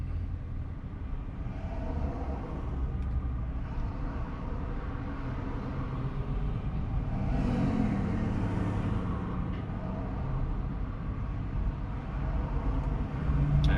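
A Tesla Model 3 on Autopilot pulls away from a stop with a slight initial jump, then cruises up to speed, heard from inside as a steady low road and motor rumble that swells slightly midway.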